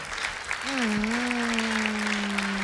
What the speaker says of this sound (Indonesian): Tepuk tangan sekali lagi buat Risna.